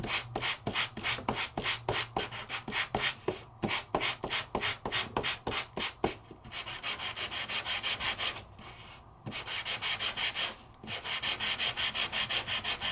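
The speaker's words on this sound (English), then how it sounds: "let's hit the sanding elements of this." A sanding tool rubbing over an embossed paper card, first in quick rhythmic back-and-forth strokes, then in longer steady scrubbing passes with short pauses, close and clear with no talk.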